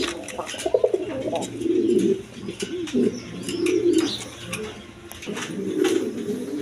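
A pair of pigeons cooing close by, the soft rolling coos returning in short phrases several times, with light rustling and faint chirps around them.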